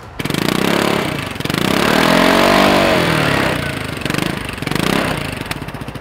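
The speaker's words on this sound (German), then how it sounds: "Und der Pordoi-Auspuff." A Vespa GTS scooter with a louder SIP Pordoi racing exhaust fitted with a dB-eater idles nearby, its raspy buzz rising and dipping in pitch with a few light throttle blips.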